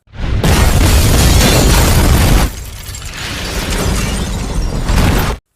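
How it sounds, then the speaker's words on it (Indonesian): A house blows up from a bomb in the 2011 film The Mechanic, a loud booming blast that roars on with rumbling debris and fire, easing then swelling again before cutting off abruptly. "piringan hitam di rumah Arthur yang selesai memainkan lagu lalu mengaktifkan sebuah bom yang menyebabkan rumahnya juga meledak"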